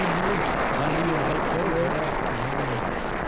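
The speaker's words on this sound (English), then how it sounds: "give them a big round of applause" A cruise ship crowd at a military appreciation event applauds World War II veterans with sustained, dense clapping while voices talk clearly over it throughout.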